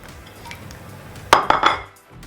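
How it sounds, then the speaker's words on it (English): A fork clinks sharply against a bowl three times in quick succession while whisking four eggs with a splash of milk for a cheese and onion quiche, following a stretch of quiet kitchen background. "So just whisk that with a fork."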